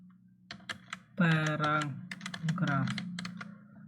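Keys clatter in quick irregular bursts as an HTML paragraph is typed on a computer keyboard, close and fairly clear, with a voice talking over much of the typing.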